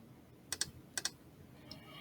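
Java code typed on a computer keyboard comes through as two quick pairs of crisp key clicks and one fainter click, close and quiet against a soft background hiss.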